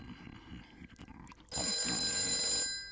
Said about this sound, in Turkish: Telefona sen bakabilir misin Alberto?